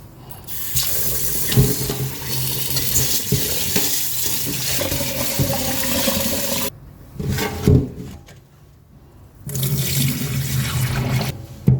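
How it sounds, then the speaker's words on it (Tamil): Ration rice is washed under a running kitchen tap for idli batter. Water gushes and splashes in bursts, with sloshing and handling noises and two brief pauses where the flow stops before resuming. "இதை நல்லா கழுவிட்டு வந்துடுறேன் நல்லா ஒரு அஞ்சு தடவை கழுவணும் ரேஷன் அரிசியை"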